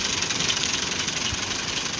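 A tractor engine runs steadily in a village setting, a continuous broad hiss-like rumble held at a fairly loud, even level throughout with no talk over it.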